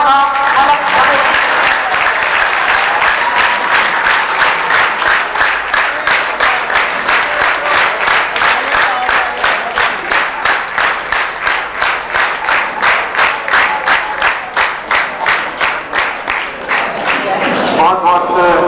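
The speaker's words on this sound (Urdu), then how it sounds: "ہر شخص اپنی سیٹ سے اٹھ کر تالی بجائے" An audience at a Pakistan Association of the Blind silver jubilee ceremony rises from its seats and applauds, a loud sustained crowd clapping that settles into a strong rhythmic unison beat before breaking up near the end.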